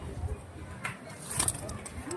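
Allahabadi pigeons cooing at a pigeon sale in India, soft throaty coos within a steady outdoor background, with someone talking over them.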